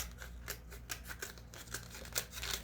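Scissors snip through the bottom of a disposable cup in a quick series of faint, crisp cuts and crinkles, close to the ear and with no talking.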